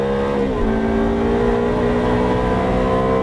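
A Ferrari F430 accelerating on a track driving course, its engine note rising and then holding a loud, steady tone from close by, with no talk over it.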